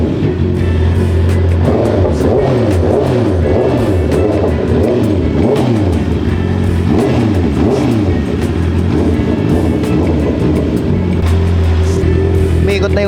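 A Honda CB650R motorcycle engine warming up, running steadily and loudly for the whole stretch with repeated blips of revving and a voice talking now and then over it.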